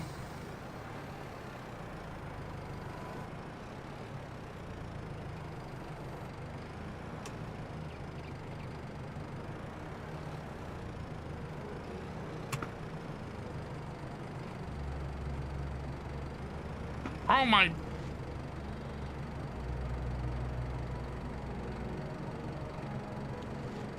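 Tractor engine in Farming Simulator 22 running steadily at a low, even idle-like drone throughout, with a brief squeal and a short spoken exclamation partway through.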